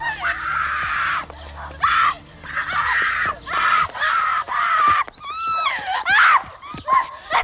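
Shrill, high-pitched screaming and anguished crying from young women in a dramatic film scene, repeated wails with sharp breaths between them, loud and up close.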